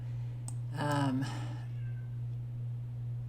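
A single drawn-out cat meow, close and clear, over a constant low electrical hum.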